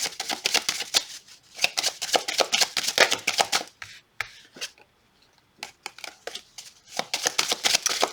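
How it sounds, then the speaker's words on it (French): Tarot cards are shuffled close up in quick papery riffles and rubs, in bursts with a short pause midway before the shuffling resumes. "Je vais mettre encore une carte sur la jalousie."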